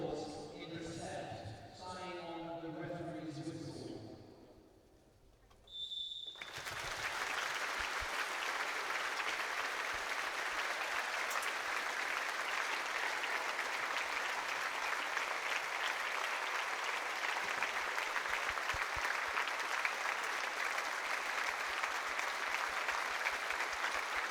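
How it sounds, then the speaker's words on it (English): A basketball arena crowd in London applauds in memory of a coach, a long sustained wall of even clapping that follows a short stretch of talk and a brief quiet pause. "both teams now will observe 24 seconds of applause in her memory"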